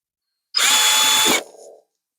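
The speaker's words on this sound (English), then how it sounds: "because I have the drill on not strip mode" A power drill set to its no-strip clutch mode, used while repairing a mixer, whines loudly and steadily for under a second, then drops to a lower, quieter tone as it winds down.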